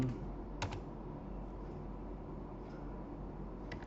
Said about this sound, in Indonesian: Misalnya kita ketik latihan